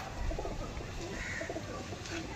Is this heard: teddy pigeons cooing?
yes